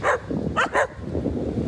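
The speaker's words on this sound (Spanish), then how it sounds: "ya me salió una manada de perros aquí" A pack of dogs barks on a rough road near Playa Tembo in San Pedro Pochutla, Oaxaca: one sharp bark, then two quick barks in a row, close and loud over a rumbling outdoor background.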